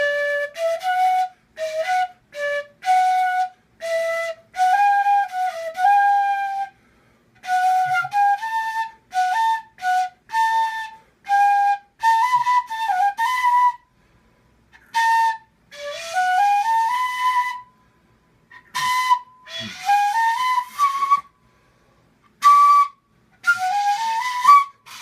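A flute plays a melody as a run of short, clear, whistle-like notes, phrased in bursts with brief pauses between them. The playing is close and fairly loud, with no talking.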